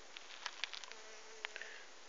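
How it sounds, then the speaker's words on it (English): A bee flits between flowers, heard as a faint, close buzzing hum that rises and falls, with several brief wing flutters and soft ticks over a hissy, quiet background. "like this bee, going from plant to plant, or flower to flower to pollinate"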